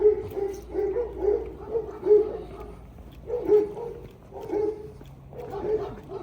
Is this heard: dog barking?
yes